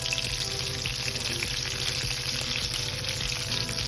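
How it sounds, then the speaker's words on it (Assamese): Cumin seeds sizzle in a small amount of hot oil for an Assamese vegetarian dish, a continuous bright crackling hiss heard up close with no talking. "ইমানকণ তেলতে মই এতিয়া প্ৰথমতে দি দিম জিৰা"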